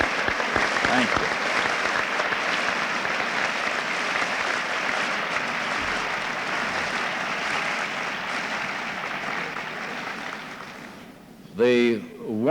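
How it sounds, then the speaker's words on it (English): Graduates at a 1974 Ball State University summer commencement applaud their families in a large hall, a dense, sustained roar of clapping that fades slightly before a voice briefly begins speaking at the end. "The warmth of the applause of these graduates indicates what their feelings are"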